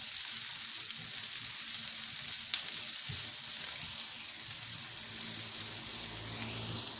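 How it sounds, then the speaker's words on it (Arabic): Chopped onion fries in oil in a pan for an aubergine moussaka, a continuous close sizzle and bubbling hiss with a faint clink partway through. "ونحطوها تتقلى وتذبل مليح مع الزيت"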